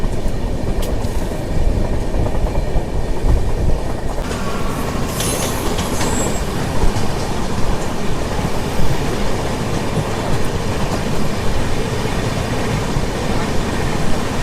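The Bokaro Express, a passenger train running from Dhanbad to Alleppey, rolls along the rails with a loud continuous rumble and rattle, rhythmic wheel clatter and brief squeals, heard from onboard with no talking.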